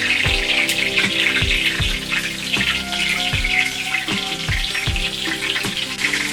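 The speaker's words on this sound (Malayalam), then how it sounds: "ആ എണ്ണയ്ക്കകത്ത് വെളുത്തുള്ളിയും ഇഞ്ചി ഒരു ഫ്രൈ ആയി വരുന്നതിന് നല്ലൊരു സ്മെല്ലുണ്ട്" Garlic and ginger fry in hot oil for an egg fry, giving a steady broadband sizzle with scattered pops and clicks of utensils, close and continuous throughout.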